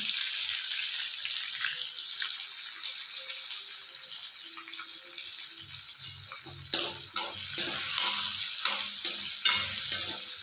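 Coriander and turmeric powder being stirred in a hot frying pan, a steady sizzle with scraping spatula strokes that grow louder and more rhythmic toward the end, no voices.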